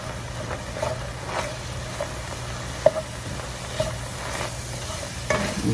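Seasoned chili sauce mixture being stirred in a pan, a soft steady scraping with a faint sizzle and a few sharper utensil knocks, close and alone without talk.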